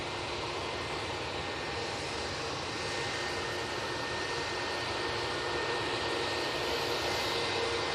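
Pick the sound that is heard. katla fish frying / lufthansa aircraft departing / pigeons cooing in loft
lufthansa aircraft departing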